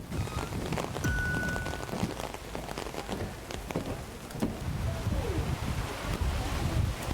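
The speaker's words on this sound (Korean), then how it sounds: "우박이 떨어져." Hail pelting down at the Kapellbrücke covered wooden bridge in Lucerne, Switzerland, a dense, steady patter of sharp ice impacts with wind noise, loud and close throughout.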